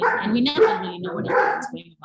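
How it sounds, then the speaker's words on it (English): Several dogs bark and yip loudly nearby in a home during an online youth discussion, the sharp barks overlapping a person talking throughout. "Apologies for the dogs."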